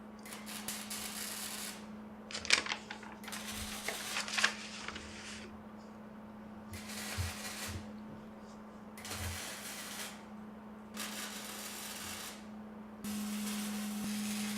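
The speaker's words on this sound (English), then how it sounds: "So I'm doing a lot of welding here." Welding casters onto a steel angle table frame produces repeated hissing, crackling bursts of a few seconds each, separated by short pauses, over a constant low electrical hum.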